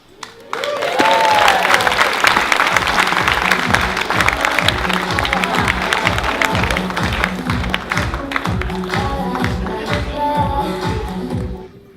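Wedding reception guests applauding and cheering for Sonam, loud rhythmic group clapping in a steady beat that swells in quickly, carries on for several seconds with whoops and crowd noise, then fades at the end.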